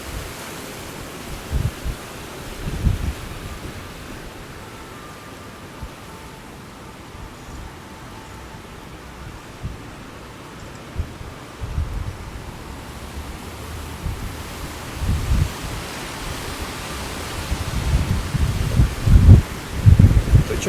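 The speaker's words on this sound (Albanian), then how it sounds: "sepse ka shumë erë dhe në këtë rast edhe kamera që po xhirojmë ka lëvizje ose ka goditje" Strong November wind on the coast at Durrës, Albania, roars steadily near palm trees, with gusts buffeting the microphone in heavy low thumps that build toward the end, under faint surf-like noise.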